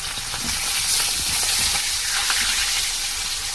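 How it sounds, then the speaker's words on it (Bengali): Pieces of fish frying in hot oil in a home kitchen, a dense, steady sizzle and crackle with bursts of spluttering, loud and close, with no voices. "মাছ দিয়ে দিচ্ছি, মাছটা একটু ফাটে, তার জন্য একটু ঢেকে দিতে হবে"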